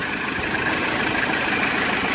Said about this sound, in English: If you notice the engine quiet down, is because it's running pure on the Liqui Moly Purge